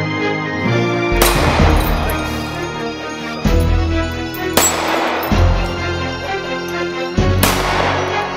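Several loud, sharp gunshots ring out at target practice, roughly four blasts spaced a couple of seconds apart, each with a broad crack and a rumbling tail of echo over steady background noise.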